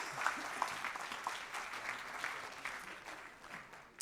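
A cinema audience claps at a film screening, moderately loud applause spread over several seconds with a few sharper individual claps standing out, gradually thinning toward the end.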